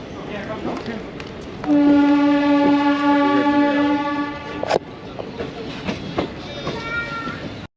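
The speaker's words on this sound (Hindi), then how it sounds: "ये दोस्तों हल्द्वानी रेलवे स्टेशन।" The Uttaranchal Sampark Kranti Express at Haldwani railway station: a train horn blares a sustained chord for a few seconds over rumbling station ambience, with people talking nearby.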